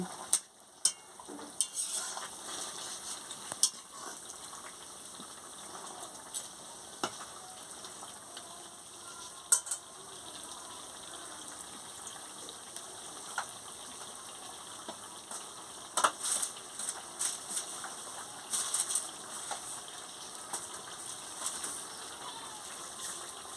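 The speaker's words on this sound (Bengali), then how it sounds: "ঢেঁড়স মাছ দিয়ে দিচ্ছি, আমচুরটা দিয়ে ভালো করে একটু ফুটিয়ে নিচ্ছি" Fish curry with okra and amchur bubbles faintly in a pan, a soft steady simmer broken by occasional clicks and stirring scrapes, heard close but quiet.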